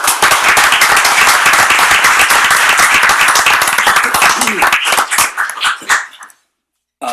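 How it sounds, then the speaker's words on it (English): Audience applause for Mickey Walkner at a county executive's report to the county council: dense, loud clapping from a crowd that holds steady for about six seconds, then thins out and stops. "So I would like to recognize Mickey and give her a round of applause."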